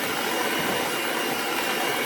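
An electric mixer whirs steadily as it blends flour and dry ingredients into wet chocolate chip cookie dough, a loud continuous motor drone with no pauses or voices.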